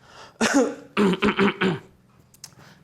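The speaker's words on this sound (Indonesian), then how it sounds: "mau batuk dulu nih" A person coughs and clears their throat in a short cluster of four or five rough bursts, close by, followed by quiet.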